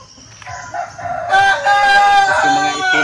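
A rooster crows loudly and close by in a backyard chicken farm with black Australorp and Sussex birds, one long harmonic crow rising over quieter clucking and fowl chatter.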